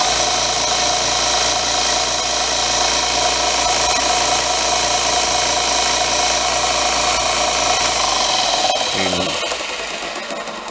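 A new belt sander runs with a loud, steady mechanical whir and a constant hum. It holds evenly for several seconds, then winds down and fades near the end.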